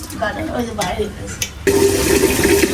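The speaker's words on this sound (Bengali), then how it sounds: "এই যে আমার চাল ধোয়া শেষ," Voices and light clatter give way to a sudden loud rush of water sloshing and splashing as rice is rinsed in a vessel.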